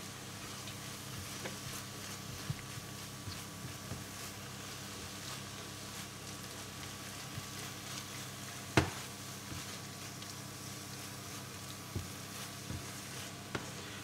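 Spinach sautéing in a pan, a low steady sizzle and faint crackle running throughout at a quiet level, with a single sharp tick of utensil against the pan near the middle.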